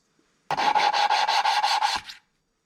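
Fast, rhythmic gritty rubbing of metal on metal as a new engine valve is lapped into a 2.4 Ecotec cylinder head, about eight quick back-and-forth strokes close up, then it stops.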